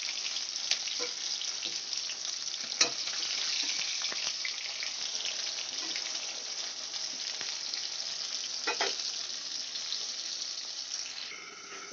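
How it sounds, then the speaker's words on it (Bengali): Katla fish pieces fry in oil until reddish, producing an even, continuous hiss close by, with a few brief spatters and faint clinks along the way. "বাকি মাছগুলো আমি এইভাবেই ভেজে নেব"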